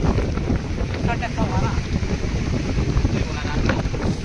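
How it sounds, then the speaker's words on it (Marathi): Strong wind blows at a white-sand seashore near Karwar beside a rough sea, buffeting the microphone with loud, continuous roaring gusts. A voice can be heard faintly under the wind. "एकदम वारा सुसाट आहे एकदम"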